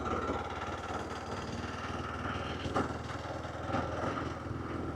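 Kawasaki KLR 650 motorcycle engine with the clutch slipped through corners on a corrugated New Zealand road, a steady close mid-pitched drone with a rough vibrating texture and a couple of brief surges.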